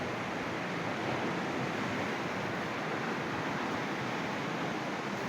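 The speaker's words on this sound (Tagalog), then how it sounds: "Ang lakas ng alon." Strong ocean waves at Laiya beach in Batangas, heard as a constant, dense roar of surf from above the shore, broad and unbroken, with no voices over it.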